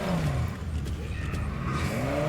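Engine noise of a car driving in the video game Fortnite, with revving and shifting pitch over a continuous rumble, plus some light clatter.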